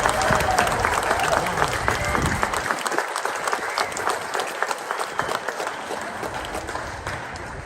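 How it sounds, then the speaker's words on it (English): A crowd at a live auction event bursts into loud, sustained applause that gradually tapers off, with scattered claps continuing toward the end. "They need a round of applause."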